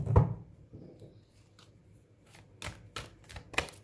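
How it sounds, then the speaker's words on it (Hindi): Oracle cards being shuffled by hand, a few soft riffling bursts and papery flicks spread across a quiet stretch, close and fairly faint with no talking. "चलिए मैं एनर्जी ओरेकल कार्ड्स भी देखूंगी"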